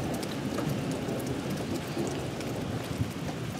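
Heavy rain from a thunderstorm over a cabin garden pours steadily, a dense close hiss with a faint low rumble of thunder underneath and no voices.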